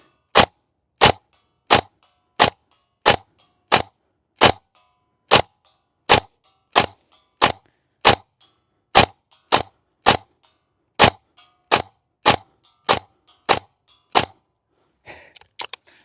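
A Silverback MDR-X rifle fires a string of about twenty-two sharp, loud shots at a steady, fairly quick pace with no suppressor fitted, each crack standing alone, then a few faint handling clicks at the end.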